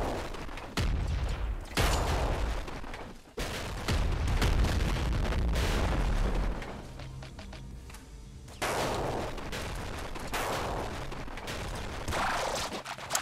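Hyper rifle firing in Nuclear Throne, a series of heavy, booming bursts of rapid shots in several separate volleys, loud and punchy, with short gaps and rattling impacts between them.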